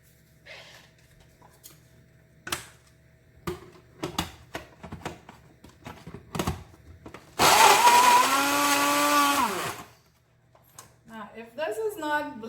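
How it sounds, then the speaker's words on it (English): A blender runs for about two seconds on potato pieces with no water added, a loud close whir, with a person talking and handling things before and after. "We're just going to try and blend this."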